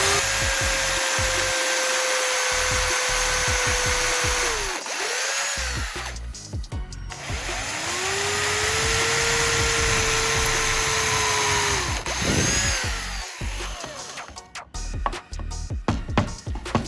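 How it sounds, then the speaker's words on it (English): A power drill bores holes into wooden pieces in close, loud sustained whines, with the motor pitch dropping and rising again between passes and rattling, clattering handling noises toward the end. "where I'll drill holes to secure the wooden pieces together"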